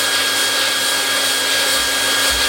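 A hot air plastic welding gun blows steadily while heating a plastic welding rod, a loud, continuous close-up rush of air like a hair dryer with no pauses.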